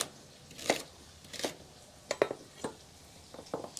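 A knife strikes a cutting board in a handful of irregular chops as peeled, washed carrots are roughly cut for tomato soup, each hit crisp and close with quiet gaps between.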